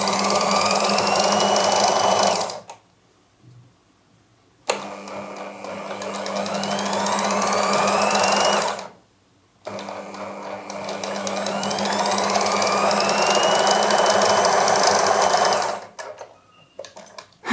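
A tailor's sewing machine runs in three long bursts, loud and close, stitching a straight seam on fabric for piping, with brief pauses between runs and no talking.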